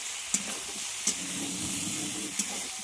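Fish curry with a green chili fries in a pan, a steady close sizzle and hiss broken by three sharp utensil taps or stirring scrapes at uneven intervals.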